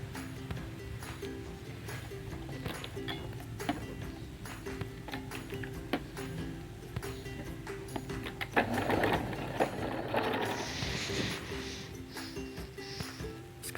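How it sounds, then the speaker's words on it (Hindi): Sewing machine stitching a trouser seam, a steady mechanical hum with a regular rapid rhythm running through most of the stretch, growing busier and louder near the end. "अब इसको सीधा ऐसे पलट के यहाँ पे सिलाई लगानी है"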